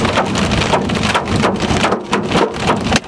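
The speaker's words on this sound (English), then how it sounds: "You guys think about this hail?" Large hail and heavy rain pelt a vehicle during a Texas tornado storm, a loud, dense, continuous drumming with clusters of sharp impacts rising and falling throughout, with no voices.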